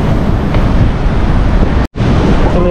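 Ocean surf at a beach in Casiguran, Aurora, a steady loud wash of waves with wind buffeting the microphone, broken by a brief dropout near the end.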